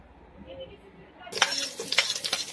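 Sliced red onions are sautéed in a pan for pork sisig, starting as a quiet hum, then a sudden hiss of sizzling with clinks and scrapes of a utensil against the pan, up close.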